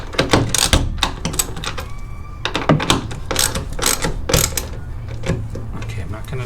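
A ratchet tightens a bolt on an Extang Trifecta 2.0 bed cover fitted to a Jeep Gladiator, producing close, rhythmic bursts of sharp clicking strokes mixed with metallic clunks and handling noise.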